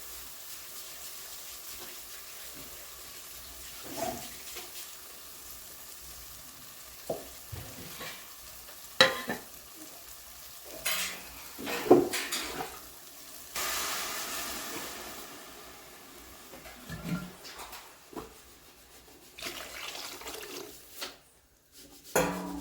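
Water is poured into a hot pot while rice and cowpeas cook in a Kongunadu dish, setting off bursts of sizzling and bubbling. Faint stirring and pot clinks sound over a quiet kitchen background.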